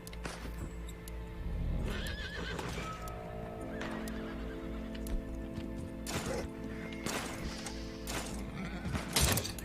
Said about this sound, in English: Hell is the matter with this goddamn horse?